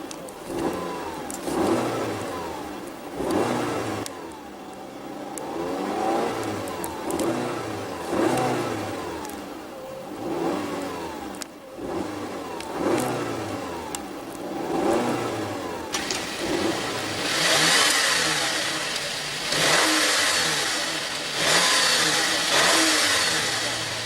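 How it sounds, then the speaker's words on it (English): A 2015 Volkswagen Passat's 1.8 L turbocharged four-cylinder engine revs repeatedly from idle, about ten rising and falling pulls heard close, with a louder, harsher stretch near the end. "let's go ahead and rev up that turbo 4-cylinder and see how she sounds"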